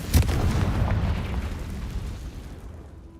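A booming Confringo explosion spell from Hogwarts Legacy bursts loudly at the start, then rumbles and fades into a long decaying tail.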